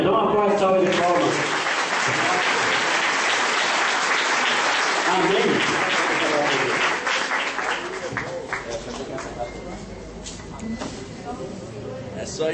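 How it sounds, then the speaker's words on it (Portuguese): A church congregation applauds in a long, loud round of clapping that gradually thins out, with voices speaking over and after it. "Dá uma porta, salva de palmas."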